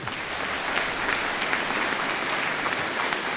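An audience gives a sustained, even round of applause after a speaker finishes, the dense clapping holding at a steady level throughout with no voices over it.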